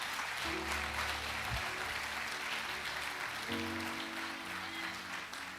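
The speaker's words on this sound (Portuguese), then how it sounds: "Aí, pode aplaudir." A church congregation claps at a sermon, a faint, diffuse patter of many hands running under sustained low keyboard tones that shift partway through.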